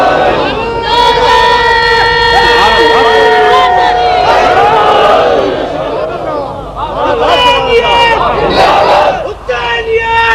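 A large religious gathering at a Shia majlis chants loudly in unison in response to a preacher, a dense roar of many voices rising and falling in waves with brief dips between calls.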